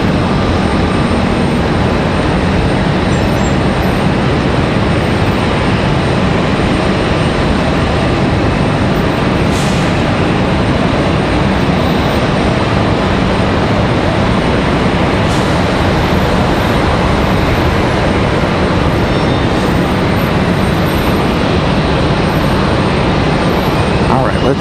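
A Delta airliner approaches Raleigh Durham International airport, a loud, broad, steady engine roar that persists throughout, with talk present beneath it.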